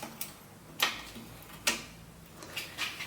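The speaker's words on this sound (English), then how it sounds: "I'm then going to undo the cable pinch bolt for the brake cable." A Brompton bike's brake cable pinch bolt is loosened with a tool, producing a few sharp, isolated clicks spaced irregularly against a quiet background.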